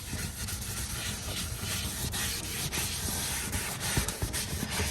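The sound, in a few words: rubbing McKee's interior cleaner into car interior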